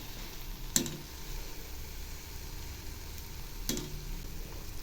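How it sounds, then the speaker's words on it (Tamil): Milk buns frying in hot oil, a faint continuous sizzle with two brief clinks as the buns are turned. "இப்போ இது எண்ணெயில் நல்லா திருப்பி விட்டுடலாம்."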